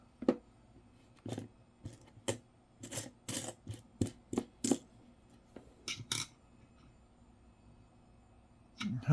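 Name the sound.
nickels clinking during a coin roll hunt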